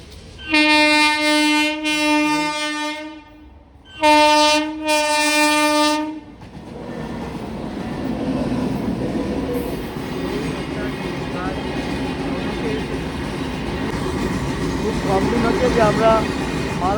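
In Tamluk town, a train horn blares in long harmonic blasts, then the heavy rumble of the train rolling past follows, steady and close, with faint voices mixed in.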